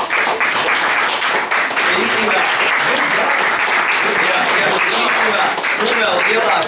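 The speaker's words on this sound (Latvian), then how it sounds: "Aplaus mūsu studijā!" Loud, continuous studio audience applause at a LAN party award presentation, dense and unbroken throughout, with voices and cheering mixed into the clapping.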